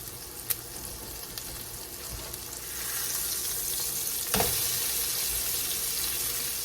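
Ground beef burger patties frying in a pan for Salisbury steak, giving a steady broadband sizzle that swells slightly midway, with a brief clatter near the end and no talking.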